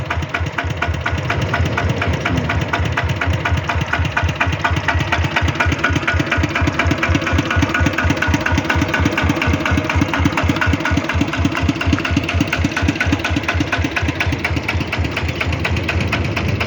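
A tractor engine runs steadily nearby in a rice paddy, chugging with a fast, even knocking rhythm that continues unchanged throughout.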